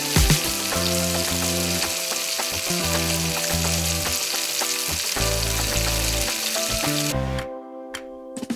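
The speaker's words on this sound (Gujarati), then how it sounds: "પૂરીઓને મધ્યમ આંચ પર તળવા માટે મૂકીશું।" Methi masala puris deep-frying in hot oil over medium heat, a loud, dense, continuous sizzle with occasional stirring, cutting off abruptly near the end to near silence.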